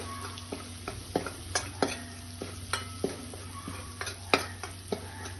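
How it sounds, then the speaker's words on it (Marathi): Food frying in a pan for pithla while a spatula stirs, a low steady sizzle punctuated by regular close scraping strokes every half second or so, no voices. "यामध्ये आपण हे फोडायचा कच्चेपणा जाईपर्यंत फ्राय करणार आहोत"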